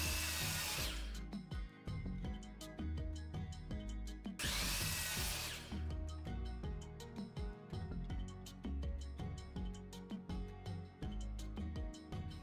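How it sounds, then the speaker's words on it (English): A miter saw chops the angled ends off a wooden block, with two loud bursts of high, bright cutting noise of about a second each, close up, set among a busy run of clattering and knocking workshop sounds and no talking. "Chop off those angles with a miter saw."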